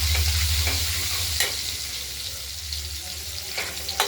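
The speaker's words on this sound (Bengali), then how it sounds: "আলু দিয়ে অল্প দিলাম আলুটা ভাজা হোক" Potatoes frying in a pan with turmeric while cooking cabbage-and-potato curry, giving a steady sizzle with a low background hum and a few scraping stirs throughout.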